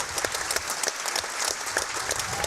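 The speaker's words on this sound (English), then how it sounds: "So you hear the clapping." Spectators clap steadily in a gym during a high school wrestling quad meet, producing a dense, continuous patter of applause with no talking over it.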